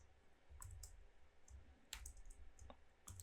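Keys clacking on a computer keyboard in short, irregular bursts of clicks, close and fairly quiet, with soft low room hum underneath.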